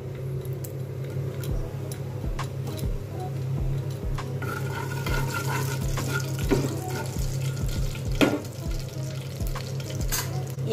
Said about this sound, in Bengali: 3টে শুকনো লঙ্কা এখানে ভেঙে আমি দিয়ে দিচ্ছি